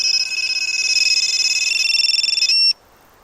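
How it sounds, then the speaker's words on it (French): A racing drone's autonomous buzzer beeps rapidly and shrilly through a loose contact, a loud pulsing electronic tone that cuts off abruptly near the end. "c'est mon buzzer autonome qui avait un petit faux contact"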